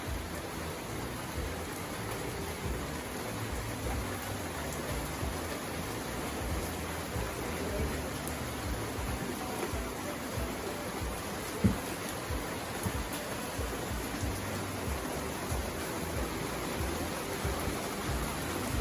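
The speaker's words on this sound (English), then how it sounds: "Raining." Steady rain falls outdoors as an even, continuous hiss with no talk, broken only by one brief soft knock midway.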